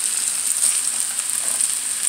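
Vegetables fry in oil in a pan, a steady close hiss of sizzling with no talking.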